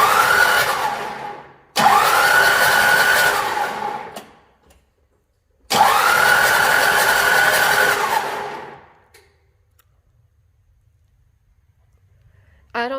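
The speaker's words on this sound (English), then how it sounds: "I think we're ready to give it a little crank. Let's crank her over." A Ford F150 engine cranks over after a head stud install, two long bursts of loud whirring starter cranking separated by a short pause, close to the microphone, with no talk.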